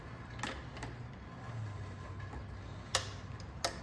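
Sharp metallic clicks come from a wrench tightening bolts on a Kawasaki KLX300R motorcycle, a few faint ticks followed by two louder, distinct snaps near the end against a low hum.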